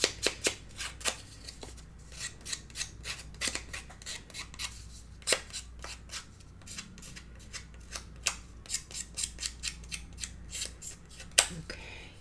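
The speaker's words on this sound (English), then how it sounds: "Distress it with the edge of the scissors." Scissor edges scrape repeatedly along paper edges to distress them for a mini album craft, a close series of crisp, irregular rasping strokes with short pauses and no speech.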